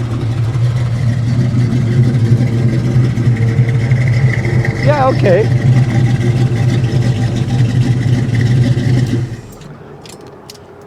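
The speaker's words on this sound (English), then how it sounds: "That engine sound though" The deep, loud 401 V8 of a 1974 AMC Javelin AMX rumbles steadily at idle nearby while someone speaks briefly; the rumble drops away abruptly near the end.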